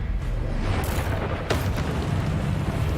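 Fiery Confringo spell explosions in the game Hogwarts Legacy: a dense, continuous low rumble broken by a couple of sharp, bright bursts, loud and close with no voices.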